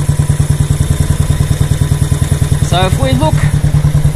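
A Royal Enfield Classic 500 motorcycle with a Race Dynamics Powertronic fuel controller idles at about 1080 rpm, a loud, steady low thumping pulse close by, with someone talking over the last part.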